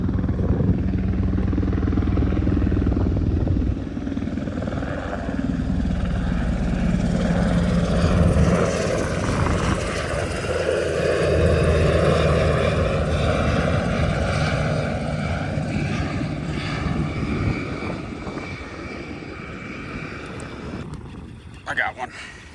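Aircraft passing low over the approach end of a runway beside a Texas Gulf Coast fishing spot, a loud sustained engine roar and drone that swells and fades across the whole stretch, with no talking.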